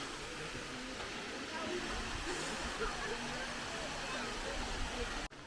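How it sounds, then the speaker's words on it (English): A waterfall in the Sudety mountains of Poland gives a steady, broad rushing hiss that stays even and fairly distant throughout, ending with a brief handling knock. "There's another waterfall here."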